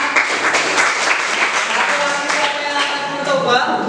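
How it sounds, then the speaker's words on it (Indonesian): Audience applause for a volunteer who played against a computer at an artificial intelligence presentation: a steady, dense patter of many hands clapping, sustained and fairly loud for the whole stretch. "seri tepuk tangan"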